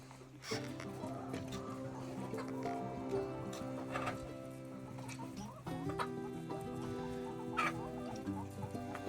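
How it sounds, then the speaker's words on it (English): Chickens cluck steadily in a busy farmyard, layered over a constant low hum with occasional louder squawks. "What's up, chickens?"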